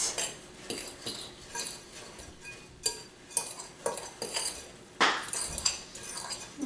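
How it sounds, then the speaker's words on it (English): A fork or whisk stirs dry ingredients for sweet potato breakfast cookies in a bowl, making a run of close, quiet metallic clinks and scrapes that come in irregular bursts with no talking. "stir it all up until it's good and combined"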